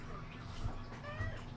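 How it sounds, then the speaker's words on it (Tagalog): A baby kitten meowing faintly, two soft short mews under a steady background noise. "Nagpapalambing ang baby kuting."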